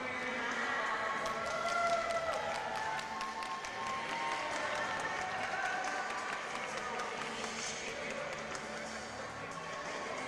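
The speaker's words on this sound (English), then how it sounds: "Let's give a round of applause to Terry, one of the commentators who's been" Crowd applause at a national dodgeball championship in Canada, a steady wash of clapping and cheering that holds at a fairly even level for about ten seconds with voices mixed through it.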